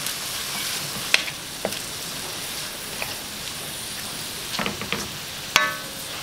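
Beef sautéing in a pan with salt and seasoning, a steady sizzle of frying broken by a few sharp clicks and scrapes of a utensil stirring against the pan.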